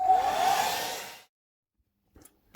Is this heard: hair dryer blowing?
yes